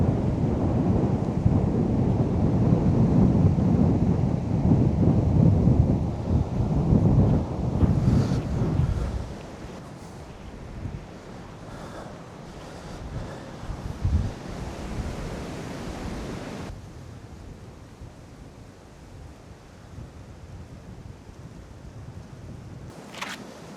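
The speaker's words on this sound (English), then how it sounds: "I know it's windy" Strong gusting wind buffets a hilltop on a Worcestershire hill walk, roaring loud and broadband for the first several seconds before easing into a softer, steadier rush with occasional brief gusts.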